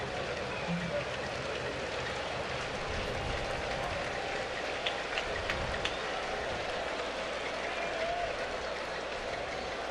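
Crowd noise fills a baseball stadium during an Angels–Reds game as fans roar after a strikeout, a broad steady wash of cheering and applause that holds loud for the whole stretch, with faint talk beneath it.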